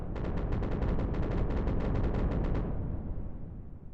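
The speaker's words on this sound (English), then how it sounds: "I don't know what's up with those explosions, to be honest." Rapid string of sharp explosion pops during spacecraft re-entry in Kerbal Space Program with heavy visual mods, about two dozen crackling bursts over a continuous deep rumbling roar that fades out after the bangs stop.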